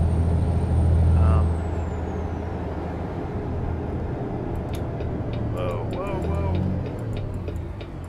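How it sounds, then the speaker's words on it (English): Truck trailer air brakes in American Truck Simulator hiss and release while a heavy semi engine drones low, with faint ticking from a turn signal and someone talking over parts of it. "Trailer brakes are strong."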